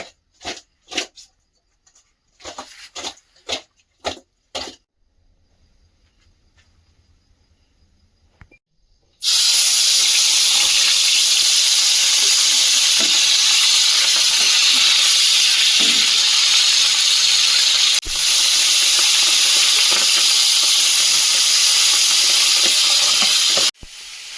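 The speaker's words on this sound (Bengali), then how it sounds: "মাছে লবণ হলুদ দিয়ে দিয়েছি আর ফ্রাই প্যানে তেল গরম হচ্ছে এখন ভেজে নেবো" Fish rubbed with salt and turmeric, bhola fish for a spicy curry, sizzles in hot oil in a frying pan. A few soft knocks come first, then a loud, steady frying hiss runs unbroken to the end.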